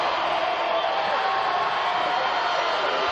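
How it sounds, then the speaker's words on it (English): A St. Thomas More crowd roars at a 2009 high school football championship, a loud, unbroken wash of cheering and noise from the stands with no distinct voices standing out. "St. Thomas More crowd on its feet, trying to make some noise"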